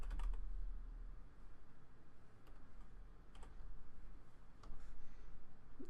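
Quiet clicking of keys on a computer keyboard, a few irregular taps spread across several seconds, faint and close with no talk over them.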